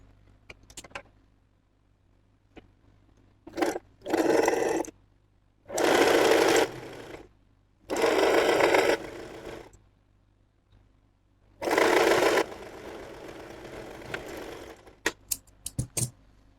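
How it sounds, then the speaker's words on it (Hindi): A sewing machine stitching an umbrella palazzo runs in several short bursts of whirring rapid stitches with quiet pauses between them, ending in a few quick clicks. "इसके ऊपर यहाँ से स्टिच लगाते जाएंगे"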